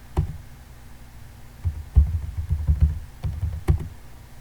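Typing a username on a computer keyboard during remote terminal setup: scattered soft key taps in short bursts over a low hum, fairly close and quiet, with no talking.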